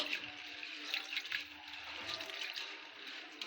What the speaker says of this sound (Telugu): ఇలా వాష్ చేసుకొని వాటర్ అన్నీ వంపేసుకుందాం